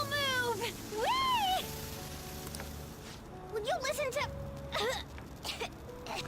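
Cat meowing in the video game Persona 5, two drawn-out rising and falling meows followed by a few shorter ones, loud over steady game music.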